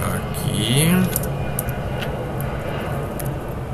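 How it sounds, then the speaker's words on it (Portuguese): An airplane passes overhead near an airport, a broad engine roar rising and then holding as a steady rumble, with people talking over it. "Hoje o aeroporto tá fervendo, ó. Mais um avião."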